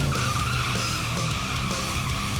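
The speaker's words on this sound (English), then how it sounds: "gives this old-school, pure American muscle car a test drive, then slides it into the garage" A 1973 Corvette, an old-school American muscle car, skidding on a test drive: a continuous loud tire squeal and engine roar that holds steady throughout, close and dense.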